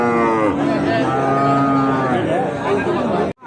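A cow at a busy cattle market gives a long, loud, drawn-out moo that fills nearly the whole stretch, with faint crowd murmur beneath before it cuts off sharply.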